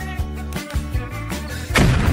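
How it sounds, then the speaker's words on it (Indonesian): A cartoon explosion effect for a bursting chocolate treat: rhythmic tonal thumps lead into a sudden loud, noisy blast near the end, with no talking. "Nah, itu adalah ledakan coklat."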